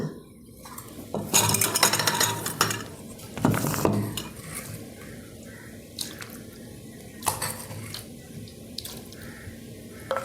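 Fermented rice gruel (pazhankanji) being served from a pot, with clattering utensil knocks, scraping and wet slops in bursts separated by quieter gaps, close and moderately loud.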